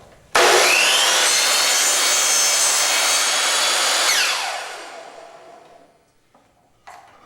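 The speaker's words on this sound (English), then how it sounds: "I've set the miter saw for 0° setting, and we're simply going to make a straight cut" A miter saw makes a straight cut through wooden baseboard trim: a loud, steady whining rip for about four seconds, then the blade spins down and fades, with a couple of faint knocks afterward.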